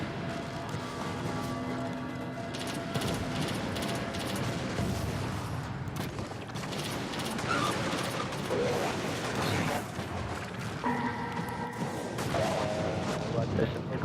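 Rapid bursts of gunfire and heavy weapon blasts during a Vault of Glass raid in the video game Destiny, continuous and loud, with mechanical clanks and players talking over the fighting.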